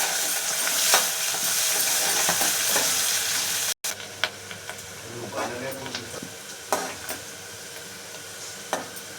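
Onions fry and sizzle in a pan with fenugreek and curry leaves for egg chaaru, a steady hiss with scraping stirring strokes of a spoon against the pan at irregular intervals, heard up close.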